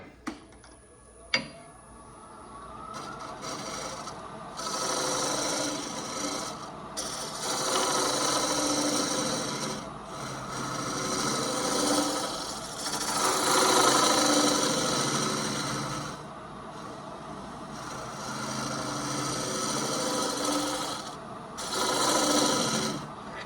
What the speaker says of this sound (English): we'll get that with the very tip of the box scraper